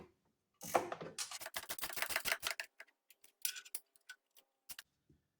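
Winch mounting bolts on a Wolverine X4 are snugged down with a ratchet, a quick run of sharp clicking followed by shorter, sparser bursts of ticks, close and isolated in a quiet space.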